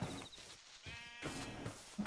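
Sheep bleat quietly in a video game, with a few short, wavering calls over soft game background sounds.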